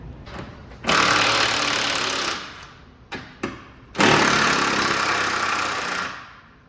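A 2015 Ford F-150 Platinum with a weak battery cranking in two long, harsh, grinding bursts separated by brief clicks and stutters, close and loud, without the engine catching.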